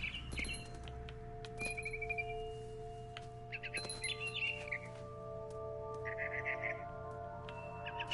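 Bird in the adventure game What Remains of Edith Finch, chirping and squawking in repeated short bursts over a steady tonal ambient hum, fairly near and moderately loud.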